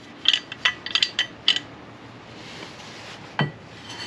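A tight cluster of small, sharp metallic clicks comes from loose parts in a Yamaha Vector snowmobile clutch, belt removed, then a pause and one more knock, close by over a quiet hiss.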